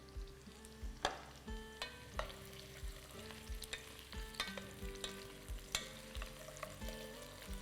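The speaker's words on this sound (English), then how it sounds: "When you're frying nadru, let it color." Slices of nadru (lotus stem) fry in a pan for a Kashmiri rogan josh, a steady sizzle broken by repeated stirring scrapes and clanks of the utensil at an uneven rhythm, close and fairly quiet.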